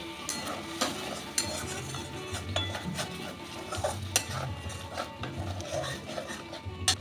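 A cashew, melon seed and paneer paste is stir-fried in oil in a pan, a spatula scraping and clattering against the metal in a steady, close rhythm over a soft sizzle, with no voices.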